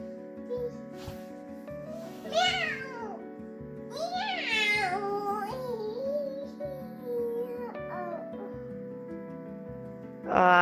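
A cat meows several times in a rising, drawn-out way, close and fairly loud, over a steady low hum.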